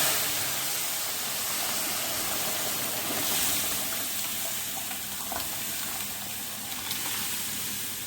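Cooked chana dal poured into a hot garlic and red chilli tadka in a pan, a steady loud sizzle and hiss throughout with no voices.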